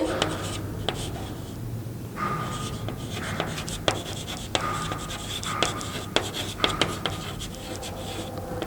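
Pen or marker strokes scratch across paper or a board in short, irregular bursts with sharp taps, faint under occasional speech.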